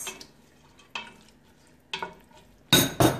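Food sizzling in a frying pan is stirred with a utensil in three or four sharp scraping strokes spaced about a second apart, the last two loudest and closest, with a faint sizzle underneath and no talking.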